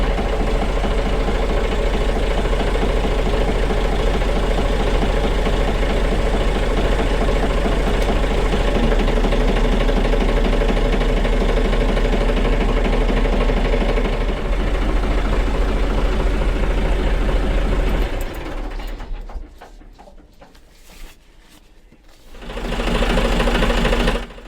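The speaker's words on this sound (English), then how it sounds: "I don't know if you can hear me above the engine" Diesel engine of a narrowboat running steadily and loud at close range, a continuous rhythmic chugging drone for about twenty seconds, then dropping away briefly before picking up again near the end.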